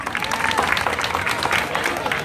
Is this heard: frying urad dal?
no